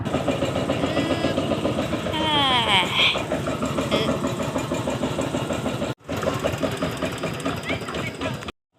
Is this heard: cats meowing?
no